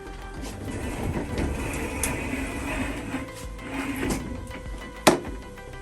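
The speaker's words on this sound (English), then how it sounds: "So the fridge and freezer is kind of like an ice chest, and it actually rolls out." A roll-out fridge freezer drawer in a toy hauler trailer slides open with a low rolling rumble, close and moderate in volume, ending in a sharp clack as it stops.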